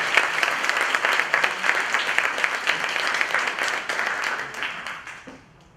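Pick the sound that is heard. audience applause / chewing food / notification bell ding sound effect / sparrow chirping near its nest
audience applause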